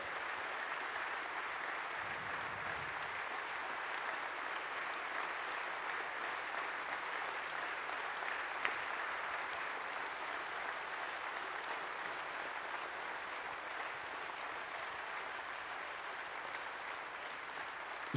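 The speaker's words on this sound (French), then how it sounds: "François Fillon, que vous pouvez applaudir." Sustained audience applause filling a political plenary hall in France, steady dense clapping at even loudness throughout with no voices over it.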